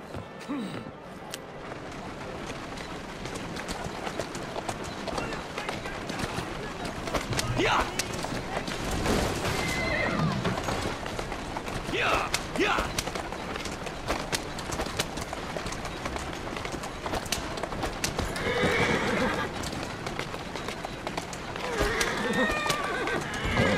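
A horse in Assassin's Creed Syndicate whinnies several times amid clip-clopping hooves and busy game background noise, with a person talking over part of it.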